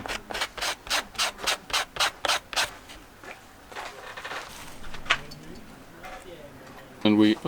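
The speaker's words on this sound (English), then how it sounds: "what we need to do is first to sand both pieces in order to remove all of the dirt" Both pieces of material are hand-sanded with sandpaper to strip off dirt, giving about ten quick, even rasping strokes up close, then quieter scuffing, with a brief louder scrape near the end.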